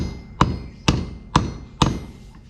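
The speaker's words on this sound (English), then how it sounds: "now I'm gonna hit it from the back, so that when we hit it, we actually want to hit the handle deeper into the head" Four hammer strikes knock a wooden handle further into a hammer head during handle fitting, sharp and close, spaced about half a second apart with a brief ring after each.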